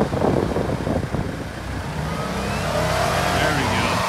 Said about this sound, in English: It's casual burnout.